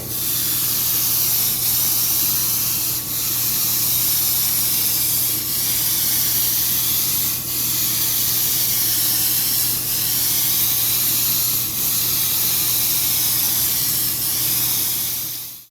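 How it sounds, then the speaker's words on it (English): An airbrush spraying bright orange paint gives a steady, close, continuous hiss with slight pulsing that runs the whole time and is heard alone, without talk. "So now the airbrush will be angled downward at about a 45 degree angle."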